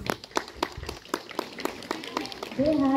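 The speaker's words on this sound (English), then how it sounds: "let us give a big round of applause for all the participants who marched today" Rhythmic, fairly steady clapping from a crowd applauding marching participants at a 78th Independence Day celebration in Okhrey, continuing for a few seconds before a sustained tone rises near the end.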